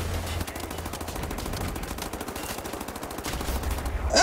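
Sustained rapid gunfire from Wolfenstein, a steady stream of shots under loud game ambience, ending in a brighter burst of impact or explosion noise.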